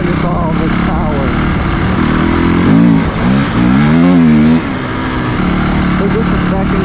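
A 250cc dirt bike engine drones and revs steadily in second gear while riding, loud and close with rising and falling pitch sweeps in the middle.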